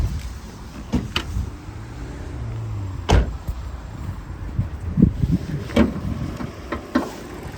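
The bonnet of a Vauxhall Mokka is released and lifted, a few sharp clunks and a loud latch thud standing out against low outdoor rumble, with no talking.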